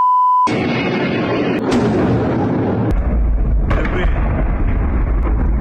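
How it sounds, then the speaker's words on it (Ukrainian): Loud, deep booms rumble one after another from explosions during a Russian missile strike on Kyiv, with sharp blasts cutting in and a heavy low roar filling the gaps. "Київ здригається від вибухів."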